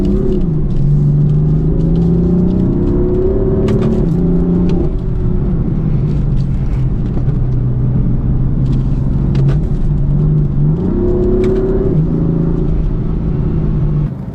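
Engine of a BMW M4 F82 while driving, a loud, steady drone rising and falling as the revs climb and drop through gear changes, with a continuous road rumble underneath and no talking.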